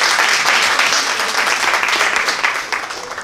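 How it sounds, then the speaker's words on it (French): An audience at a business meetup breaks into loud, dense applause that stays steady and then slowly tapers off, with no speech over it. "Si c'est la vérité, applaudissez."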